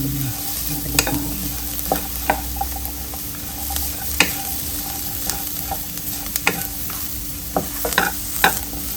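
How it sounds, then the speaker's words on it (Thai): Ground spices for northern Thai pork larb are dry-roasted in a pan and stirred, a steady low sizzle broken by repeated sharp scrapes and clicks of the spatula, close and with no talk. "ก็คือคั่วให้มีกลิ่นหอมเนาะ"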